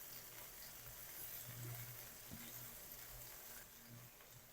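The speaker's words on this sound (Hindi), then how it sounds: "1 टेबल स्पून लहसुन अदरक की पेस्ट ऐड कर देंगे और तकरीबन 1 मिनट तक हम इसको भी भून लेंगे।" Garlic ginger paste frying in a pan for a chicken gravy, a soft, continuous low sizzle with faint stirring sounds throughout.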